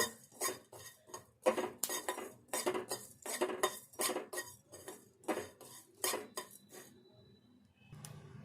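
Fenugreek seeds and whole spices being dry-roasted and stirred in a pan, a steady run of scraping, clinking strokes of a spoon against metal in a regular rhythm, close and fairly loud, with no talking.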